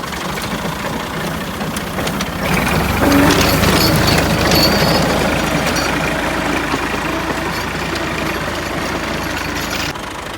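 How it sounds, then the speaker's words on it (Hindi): A tractor engine drones steadily while ploughing a field, a loud, low, rumbling hum that swells slightly partway through and keeps running throughout. "ट्रैक्टर ने हल चलाने शुरू कर दिए"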